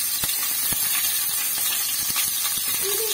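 Ginger and garlic frying together in a pan, a steady loud sizzle and hiss throughout with faint clicks of stirring, no talk.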